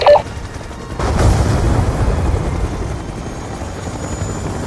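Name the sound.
helicopter in the video game Black Ops II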